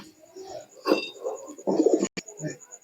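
Pigeons coo in a loft of Teddy-type birds, low throaty bursts rising and falling close by, with a voice talking between the calls.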